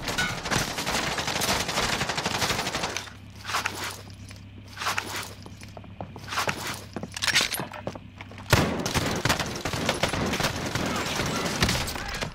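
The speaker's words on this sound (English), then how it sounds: "There's guys over here too shooting at him." Call of Duty Modern Warfare firefight: bursts of automatic gunfire crackle loudly and repeatedly, fade to sparse shots and a steady low hum in the middle, then resume as dense rapid fire to the end.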